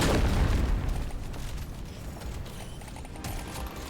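Loud, dense bursts of rapid machine gun fire in the video game Deep Rock Galactic: Survivor, with booming low rumble, strongest at the start and continuing steadily throughout, no voices.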